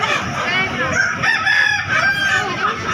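Ayam kampung chickens crow and cluck together at a busy Makassar market, with overlapping calls close by and steady background noise.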